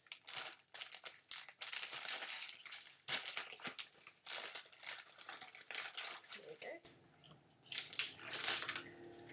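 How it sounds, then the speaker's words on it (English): Packets of crackers being torn open and handled, giving close, busy crinkling and rustling of plastic wrappers in irregular bursts with sharp crackles throughout. "Opening packets of crackers right now."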